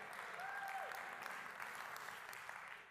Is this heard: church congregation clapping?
yes